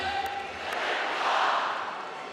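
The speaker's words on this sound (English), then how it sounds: "The crowd singing away" Massed handball crowd at the Men's EHF EURO 2014 final between Denmark and France sings loudly and continuously in a large arena, a sustained roar of voices filling the space.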